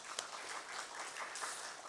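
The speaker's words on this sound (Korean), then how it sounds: "우리 할렐루야 찬양대에 우리 같이 한번 우리 격려의 박수를 한번 쳐주기 원합니다." Congregation at a church service applauding the Hallelujah choir, a quiet, steady patter of many hands clapping at a distance throughout.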